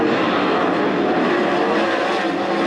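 World of Outlaws sprint car engines roar at Attica Raceway Park, a loud, steady, high-revving drone from a pack of cars racing together without a break.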